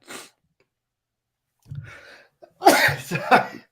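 A few sharp sneezes or sneeze-like bursts break out, the loudest near the end, with a brief quiet gap between them.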